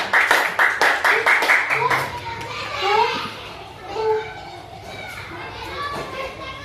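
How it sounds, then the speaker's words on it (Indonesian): Children in a classroom clap together in a quick, rhythmic burst of about eight claps. Children's chatter and voices follow once the clapping stops. "Kasih tepuk tangan dulu."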